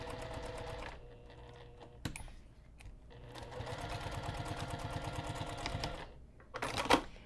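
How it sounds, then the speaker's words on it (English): A sewing machine stitches along the edge of a padded backpack strap for a bag, a rapid close mechanical chatter that runs in bursts with short pauses between them. "as I finish sewing that third edge, I'm going to transition into a quarter inch."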